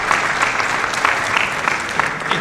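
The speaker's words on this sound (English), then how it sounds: "I think a round of applause should be given" Applause from a business audience at an executive roundtable, a steady dense patter of many hands clapping at moderate loudness with no voices over it.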